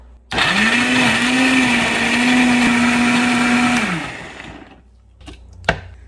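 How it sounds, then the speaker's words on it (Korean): A blender starts up and grinds a seasoning sauce with fish sauce loudly for several seconds with a steady high motor whir, then winds down, followed by a couple of light knocks. "양념을 갈아보겠습니다"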